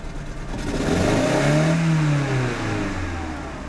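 A car engine running on three cylinders is floored to full throttle, giving a rough, uneven rising roar that peaks mid-way and then holds at a loud, misfiring drone, with no talking.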